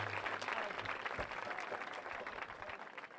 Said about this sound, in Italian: fateli ancora un applauso, grazie